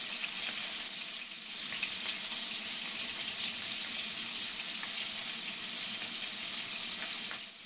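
Scallops and a lobster tail, seasoned with salt and pepper, sear in a hot pan with a steady, close hiss of frying that holds evenly and without pause.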